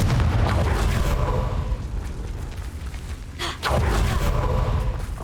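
Confringo spell blasts in the Harry Potter game Hogwarts Legacy, continuous loud, rumbling explosive roar with a short dip and a fresh burst near the end, close and dense.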